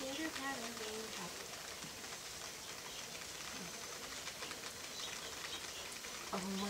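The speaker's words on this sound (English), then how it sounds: "You hear it go pitter-patter?" Rain falls in a steady, faint patter of drops on surfaces outdoors, with a bird calling and people talking over it at times.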